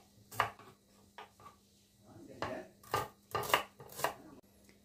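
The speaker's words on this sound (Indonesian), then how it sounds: "ini kalau ini terlampau besar ya, kita potong-potong sesuai selera." Mushrooms are chopped on a cutting board in about half a dozen crisp knife strikes, close and moderately loud, spaced irregularly with quiet gaps between them.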